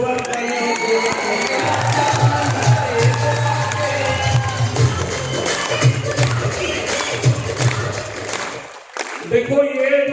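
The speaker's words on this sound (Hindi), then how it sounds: "एक बार जोरदार तालियां।" An audience at a motivational business event applauds and cheers loudly and steadily, with crowd voices and a low hum mixed in, then the clapping tapers off.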